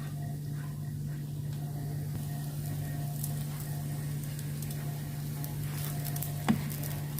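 Chicken kachori fry in a shallow layer of oil with a soft, steady sizzle and patter over a low constant hum, and one brief louder crackle near the end.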